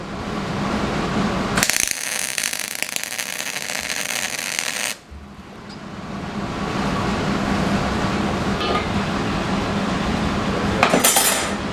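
A steel rim is tack welded onto a leg vise in a blacksmith shop. A loud, buzzing arc burst lasts about three seconds, followed by quieter shop noise and a second short crackling burst near the end.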